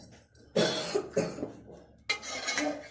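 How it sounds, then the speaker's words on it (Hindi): A child coughs in a few harsh bursts close by, with quiet gaps between the fits, in a home kitchen while ginger and garlic are being prepared. "खांसी हो गई"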